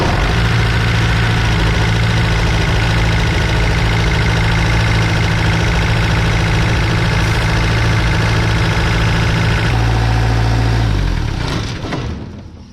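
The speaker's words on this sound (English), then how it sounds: "I'll crank her up real quick and I'll show you what it's doing." A vehicle engine with a damaged, rubbed-through factory hose cranks and runs at a steady loud rough idle with a deep low rumble, then cuts off and winds down near the end; no talking.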